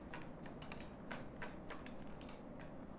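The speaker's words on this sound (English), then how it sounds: "I'm pulling out 3 cards for love now" Tarot cards drawn from a deck, a rapid run of crisp papery clicks and flicks over a faint steady hiss, fairly close and even in loudness.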